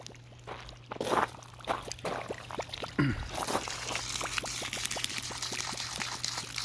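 An RV black tank macerator pump pushes plain water through a 150-foot hose with some air in the line, giving a steady trickling pour with intermittent splashy bursts, close and continuous without speech.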